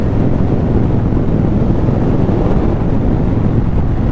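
Riding a Kawasaki Meanstreak cruiser gives a loud, constant roar of wind buffeting the mic with a low engine drone beneath, steady and unbroken with no voices.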